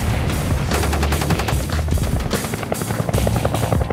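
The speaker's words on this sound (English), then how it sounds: "All we do out here is conduct live fire exercises." Marines fire live rounds during desert training at a Mojave Desert combat center, with dense rapid bursts of gunfire rattling continuously and loudly over a heavy rotor-like rumble, with no voices.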